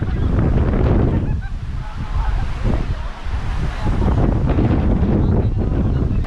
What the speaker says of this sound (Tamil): அதே போல் காற்றடிக்குது பாருங்கள்